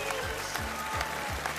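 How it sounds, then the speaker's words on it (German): Audience applause on a German TV show stage, a thick wash of clapping mixed with rhythmic low thumps from music underneath, and a voice faintly audible in the background. "Applaus für Stefan!"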